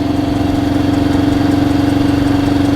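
A Honda CL77 Scrambler motorcycle engine idles steadily up close, a loud even putter with a strong constant hum and no other sounds.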